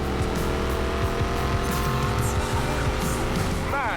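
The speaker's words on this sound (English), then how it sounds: "You know when you step on the gas and the engine growls to life for a second?" A car engine growls in Need for Speed Payback, a loud steady roar with tire squeal, revving rising near the end, with talk over it.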